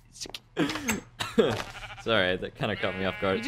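Sheep bleating in the Minecraft video game, several wavering bleats close together, heard under and between a man's speech.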